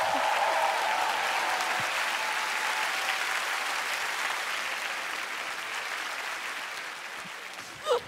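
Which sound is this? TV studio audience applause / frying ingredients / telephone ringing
TV studio audience applause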